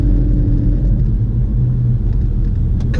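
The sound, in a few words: Porsche car driving slowly in second gear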